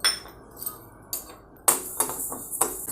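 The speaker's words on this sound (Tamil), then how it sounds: "இப்போ 1/2 கப்பு பாசிப்பருப்பை நம்ம நல்லா வறுத்துக்கலாம்" Half a cup of moong dal is dry-roasted in a metal kadai on a gas stove, with light irregular clinks and scrapes of a utensil against the pan, close and fairly quiet.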